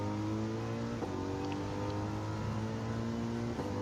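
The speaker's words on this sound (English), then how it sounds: "Great car to drive though, the Mercedes." Mercedes race car engine in the Gran Turismo 7 racing game drones steadily with a sustained harmonic whine, loud and continuous, with brief shifts near one and three and a half seconds and no talk over it.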